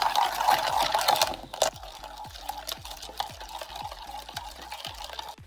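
A spoon stirs milk powder and sugar into hot water in a cup for jelly pudding: a short burst of liquid swirling, then a steady run of light, regular clinks against the cup, close and fairly quiet.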